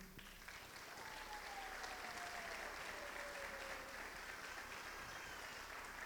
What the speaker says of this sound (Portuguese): Se você queria aplaudir, pode aplaudir.